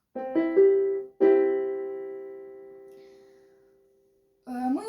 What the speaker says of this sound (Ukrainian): у нас тонічний тризвук звучить ось так.